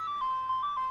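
Ice cream truck jingle playing outdoors, a thin melodic tune heard at moderate distance, steady and alone with no talking over it.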